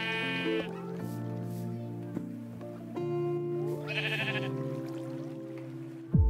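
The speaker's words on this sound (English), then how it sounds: "Alrighty, we got a baby sheep." Sheep in the Minecraft video game bleat several times in quick wavering calls, close and clear over a background of soft music-like tones, with a louder blip at the very end.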